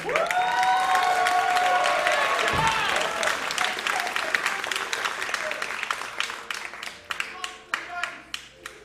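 A vaudeville theater audience at the Darress Theater in Boonton, NJ breaks into dense applause that fades into scattered individual claps toward the end.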